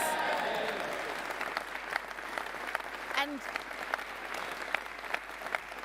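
Audience applause and cheering at a Conservative local election campaign launch, a dense sustained clatter of clapping that fills the room, with a brief voice heard over it.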